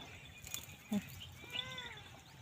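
Goats bleat faintly in the distance over an outdoor background, a couple of wavering calls with a brief knock between them.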